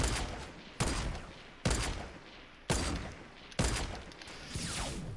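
Loud gunfire from Fortnite Battle Royale during a sniper shootout: five heavy shots at irregular intervals, each a sharp crack with a decaying tail, no talk.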